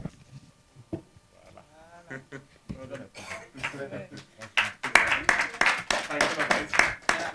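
Audience clapping at an award ceremony, starting with talk and a few scattered claps, then swelling into loud, fairly rhythmic applause with voices mixed in.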